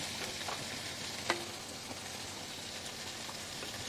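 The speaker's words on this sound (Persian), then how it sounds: "ماهی شور ما از طرف گوشتش میذاریم تو تابه سرخ بشه" Salted fish fries flesh-side down in a pan, a dense, continuous sizzle and crackle heard close up, with a faint tap or spatter partway through.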